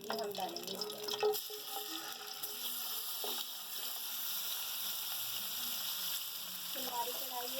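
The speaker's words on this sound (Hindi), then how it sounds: "जैसे ये तेल गरम होगा, हमने इसके अंदर अपनी चिकन फ्राई करनी है।" Chicken sizzles in hot oil in a karahi, a steady crackling hiss close by, with faint voice-like tones and stirring moments at the start and end.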